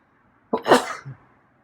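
A single sneeze, close and fairly loud, with a sharp burst followed by a short trailing sound, then quiet.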